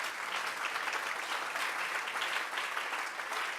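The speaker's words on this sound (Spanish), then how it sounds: "Denle un fuerte aplauso al Señor." A church congregation applauds loudly during a Spanish-language sermon, steady dense clapping filling the whole stretch with no talk over it.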